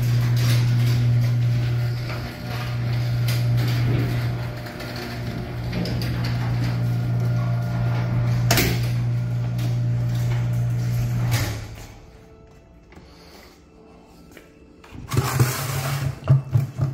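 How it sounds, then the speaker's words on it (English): A garage door closing: a steady mechanical drone and rattling hum runs for about eleven seconds, then cuts out, leaving quiet before a few clattering thumps close it off. "Close the door."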